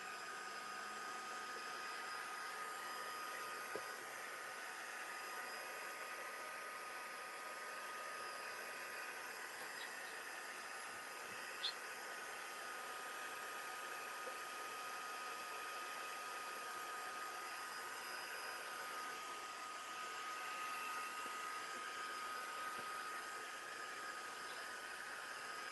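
A heat tool or dryer runs steadily at close range for the whole stretch, a continuous whooshing roar drying a mixed media art piece, with only a couple of faint clicks along the way.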